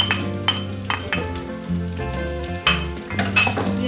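Carrot and capsicum stir-fried in a pan for spring roll filling, with a steady sizzle and frequent metallic clinks and scrapes of a utensil against the pan, close and continuous.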